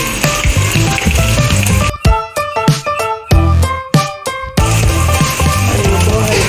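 Chopped onion fries in a pan for a pumpkin sabzi, a loud, close sizzle that briefly drops away midway under sharp tonal chimes before the hiss returns at full strength.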